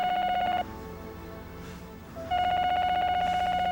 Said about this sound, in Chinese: 这暗啊，什么人打电话来？